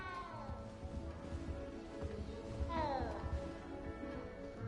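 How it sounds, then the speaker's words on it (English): A cat yowls in a video game: drawn-out, wavering meows rise and fall, the loudest one near the end of the passage, under a low background with voices. "I can hear the cat yowling."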